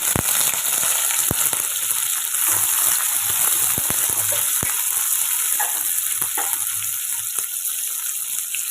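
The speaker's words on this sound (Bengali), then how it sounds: "এই তেলের মধ্যে প্রথমে কুচোটো পেঁয়াজটা দিয়ে দেবো" Chopped onion hits hot oil already holding dried red chillies and cumin seeds, a loud, close, continuous hiss and crackle with scattered sharp pops and stirring noises, no voices.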